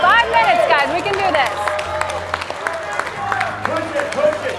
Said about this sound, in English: Audience, cheer on your favorite team